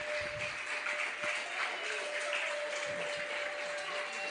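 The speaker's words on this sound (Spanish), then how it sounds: "dése un aplauso porque usted está allí" A steady wash of applause from a crowd, moderately loud and continuous, with a faint tonal hum underneath.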